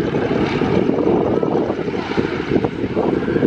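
A Fairey Swordfish biplane's piston engine drones steadily through an air display flypast at RAF Valley, a continuous broad propeller roar at moderate distance with no talk over it.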